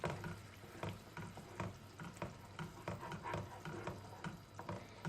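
Tomato pizza sauce with spices simmers and is stirred in a pan, giving a soft steady sizzle broken by rhythmic scraping strokes, faint and close, with no voices.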